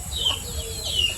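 Chicken calls rise briefly twice over a steady low rumble, thin and somewhat distant, with no talking.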